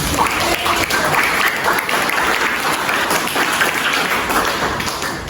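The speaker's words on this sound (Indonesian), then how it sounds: "sekali lagi beri tepuk tangan untuk kita semua" An audience in a classroom applauds after group presentations, a dense, loud burst of many hands clapping that holds steady for several seconds, close and lively.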